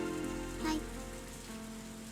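Rain sound effect from the visual novel game ONE: Kagayaku Kisetsu e, a steady dense patter of rain on a surface, even and continuous throughout with no voices.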